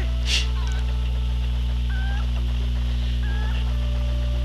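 Short, faint clucks from a chicken in The Legend of Zelda: Twilight Princess, a few separate calls over a steady low electronic hum.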